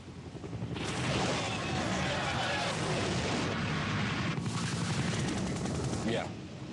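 Navy Aegis weapon system firing in a sustained, loud roar of launch blast and rumble that swells and holds for several seconds, with a second surge midway before trailing off.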